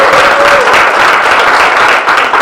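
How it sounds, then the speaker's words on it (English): A room full of people breaks into loud, dense applause for the chairperson at a chamber of commerce officers' installation event, a continuous wash of clapping with a faint whistle near the start. "I want a big round of applause for the chairperson of this magnificent event"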